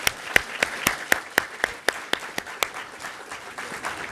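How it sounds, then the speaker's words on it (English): Scattered clapping from a conference audience honoring a Danish minister at a panel on Europe's growth and strategic autonomy, a series of distinct, fairly evenly spaced claps that soften and thin out over a few seconds. "a big round of applause, please, for Minister Lohse"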